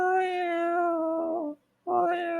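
A man imitates a cat meowing in a sustained, nasal, whiny voice, one long drawn-out meow followed after a brief pause by the start of another, close and clear.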